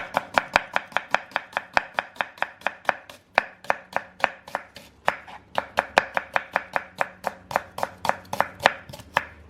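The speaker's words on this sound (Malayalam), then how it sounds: "നമുക്ക് സവാളയും സ്ലൈസായിട്ട് കട്ട് ചെയ്തെടുക്കണം." Steady, rapid knife strokes thinly slicing onions on a cutting board, close and crisp, roughly three chops per second for the whole stretch with only brief pauses.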